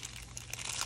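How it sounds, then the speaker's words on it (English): Blind bag packaging crinkles and crackles as scissors cut it open, a brief close rustle of plastic foil. "Let's open these with our handy dandy scissors."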